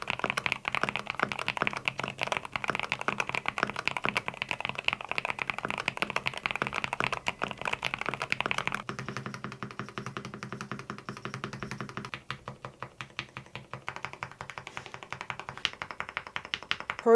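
A Monsgeek M1 V3 mechanical keyboard is typed on steadily, with dense, rapid clacking keystrokes close up, continuing the whole time with a brief shift in tone partway through.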